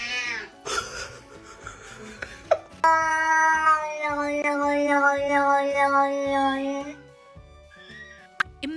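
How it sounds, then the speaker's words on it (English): A scared kitten lets out a long, drawn-out, strained meow close by, after a few short squeaks, with brief human sounds around it. "your cat sounds like a broken Ferrari struggling up the hill"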